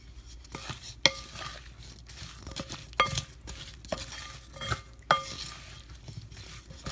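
A mango pickle mixture with fenugreek and mustard seed powder being stirred, giving soft scraping and scattered clinks of a utensil against the container at a steady, unhurried pace.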